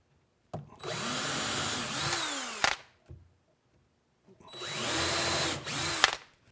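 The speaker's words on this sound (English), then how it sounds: "So once you're done drilling your holes here" A power drill whirs in two bursts of about two seconds each while drilling holes in a sink tip-out tray front frame, its motor pitch dipping under load, with a short clunk between them.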